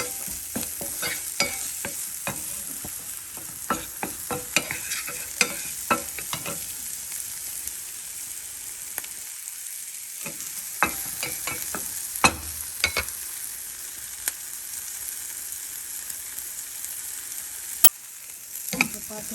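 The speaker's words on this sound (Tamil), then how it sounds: "இந்த வெங்காயம் கொஞ்சம் வதங்கிடுச்சு" Onions sautéing in a pan for Brahmi leaves (vallarai keerai) chutney produce a soft steady sizzle dotted with many scraping stirs and clinks, close and unaccompanied by speech, with a brief quiet pause midway.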